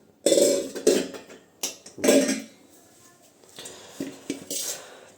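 A large metal cooking pot clatters in a home kitchen where fried fritters are being made with coriander and chillies, with bursts of metallic clanks and scraping, close and fairly loud, separated by quieter pauses.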